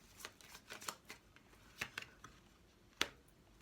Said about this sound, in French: Allez, on va tirer une carte.